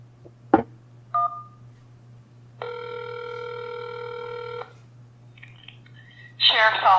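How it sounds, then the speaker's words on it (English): Telephone keypad tones dial an extension on a sheriff's office phone line. A single long touch-tone beep plays after a couple of clicks, then a brief chirp. A short burst of noisy sound ends the clip. "If you know your party's extension, you may dial it now."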